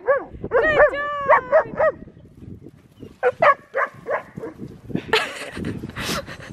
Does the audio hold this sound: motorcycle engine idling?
no